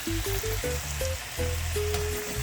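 Carrots frying in a pan on the stove, a steady loud sizzle close up with a run of short beeping tones on top, no voices.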